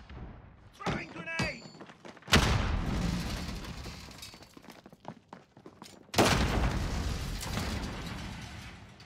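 A grenade goes off in Call of Duty Modern Warfare multiplayer: two sharp, loud blasts several seconds apart, each trailing into a rumbling decay, with brief mechanical clicks before the first.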